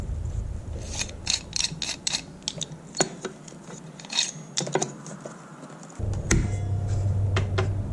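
A homemade rig spins wood to shape a spindle for an antique spinning wheel, giving a low motor hum that cuts out briefly, over scattered clicks and ratcheting taps close by.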